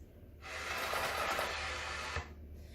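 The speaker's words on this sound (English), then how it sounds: "If you just blow into it, it sounds like this." Air blown through a brass instrument mouthpiece with no lip buzz: a breathy, pitchless hiss lasting about two seconds, then stopping.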